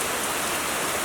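Heavy rain falls hard and steady, a dense close hiss of drops hammering surfaces, continuous and loud throughout the brief moment with no talk.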